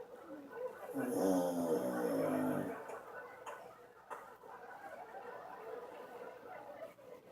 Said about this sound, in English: Let's take a look at the snore.